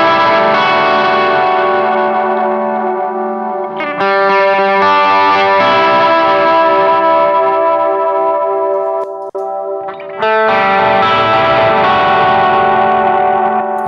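Electric guitar with overdrive from a Walrus Audio ACS1 or Strymon Iridium amp-simulator pedal, sustained distorted chords ringing loudly and alone, with two brief breaks between strummed phrases.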